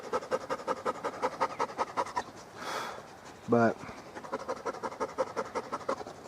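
Dogs pant under a table in quick, steady rhythmic breaths that run almost without a break. A short whine or voice cuts in briefly midway.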